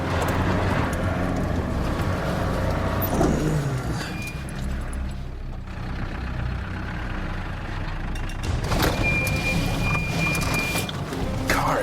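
An off-road vehicle grinds up a steep mountain track, its engine straining and revving unevenly under load, with a quieter stretch near the middle before the engine surges again loudly.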